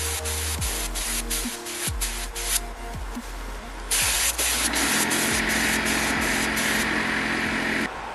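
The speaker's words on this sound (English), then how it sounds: "we're just going to use the paint sprayer that we bought off Amazon there" A cheap electric paint sprayer bought from Amazon hisses as it sprays paint onto a pumpkin. Its motor whines underneath, the spray comes in bursts with short pauses, and it turns louder and steadier in the second half.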